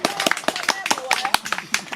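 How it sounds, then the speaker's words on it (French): A small group claps in a quick, uneven rhythm during a storytelling performance in Bouguenais, sharp individual hand claps close by while voices and singing carry underneath. "Applaudissez quand même là"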